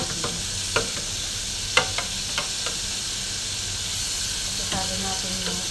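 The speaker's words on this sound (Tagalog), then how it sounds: "ilagay ko na itong tomato para igisa natin" Chopped tomato sautéing in a pan for cabbage with sardines, a steady soft sizzle with occasional utensil clicks and scrapes, close and moderate.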